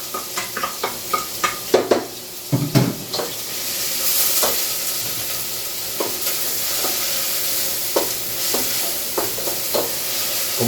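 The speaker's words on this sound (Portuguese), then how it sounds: "O óleo já esquentou. Vou refogar o alho e a cebola." Garlic and onion sauté in hot oil in a small home kitchen, a steady loud sizzle and hiss with several clinks and scrapes of stirring early on, close and without speech.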